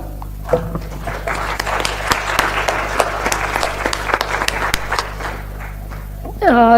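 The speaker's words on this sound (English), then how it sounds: "Please give him a big applause." Applause from a conference audience on the second day of an economics theory and practice conference: dense, steady clapping sustained for several seconds, fairly loud, with a brief voice at the start and end.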